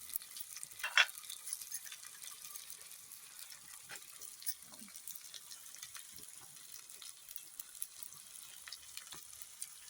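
Onions sizzle and are stirred in a clay pot, a soft steady frying hiss with faint scraping and a brief louder clink near the start, no talk.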